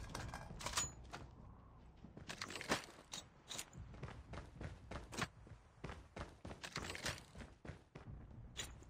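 A magazine change in Call of Duty Mobile battle royale, a busy run of clicks, clacks and thuds from handling gear, close and fairly quiet, with no speech over it.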